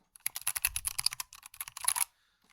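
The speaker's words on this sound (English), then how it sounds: "it's a new mechanical keyboard. It's a Varmilo EC key switch keyboard." Rapid, close clatter of typing on a Varmilo mechanical keyboard with EC key switches, a dense run of crisp keystrokes for about two seconds before stopping abruptly, no voices.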